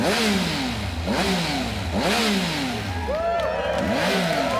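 A 2018 Triumph Speed Triple S motorcycle engine revs repeatedly, four or five sharp rising-and-falling blips close by, loud and crisp with a throaty exhaust note.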